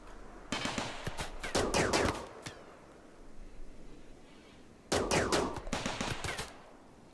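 Gunfire from the colony-sim game RimWorld comes in two loud bursts of rapid shots, the first burst longer with scattered cracks trailing off, followed by a quieter lull and then a second dense volley.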